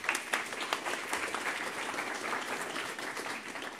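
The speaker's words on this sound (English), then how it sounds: "A big applause to her," An audience at a philosophy event applauding, a dense, steady wash of many hands clapping at moderate distance.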